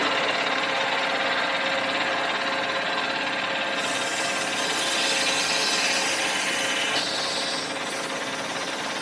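Sandpaper of 180 and then 400 grit polishes the spindle bearing seal surfaces of a Dana 60 kingpin front axle for a CJ7. A loud, continuous abrasive hiss and whir carries on without a break and shifts slightly in tone, with no speech.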